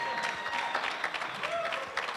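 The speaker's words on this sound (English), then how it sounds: "Have another round of applause for Alakine." Wedding guests applaud during a best man's toast, a moderate crowd clapping with scattered individual claps, a faint whistle-like tone and murmur in the room, somewhat distant and soft.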